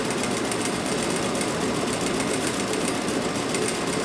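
A sewing machine stitches a plaid button-up shirt collar with small stitches, a dense, continuous whirring hum running loud and steady throughout.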